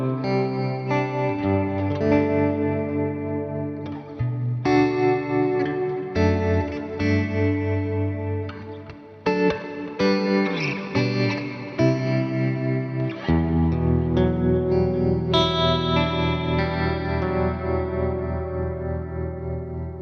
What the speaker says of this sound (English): Let's click on modulation and let's choose tremolo.